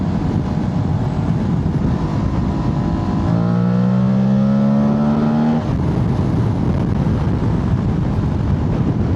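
An Aprilia Tuareg 660 twin-cylinder motorcycle engine rumbles steadily, its airbox growling, then revs up with a rising drone for a couple of seconds before settling back to its loud idle.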